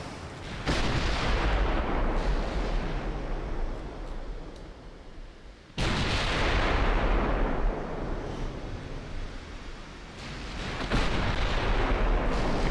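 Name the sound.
warship main guns firing in a naval video game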